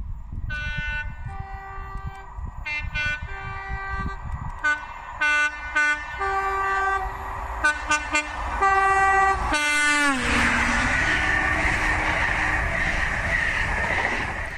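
A GWR HST on a railtour sounds its two-tone horn in a long series of repeated blasts of varying length, loud and close over rumbling train noise, ending as the train roars past.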